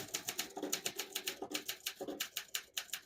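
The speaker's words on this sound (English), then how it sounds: "I'll type a sentence in red on the next line." A 1956 Olympia SM3 vintage portable typewriter types a sentence in red ribbon: a quick, even string of sharp key strikes, close and fairly quiet, with a few brief pauses between bursts and no talking.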